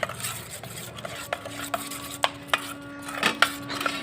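A spoon stirs and scrapes through gobi 65 batter for cauliflower in a bowl, giving close, uneven knocks and clinks against the dish with soft wet mixing between them and no talk.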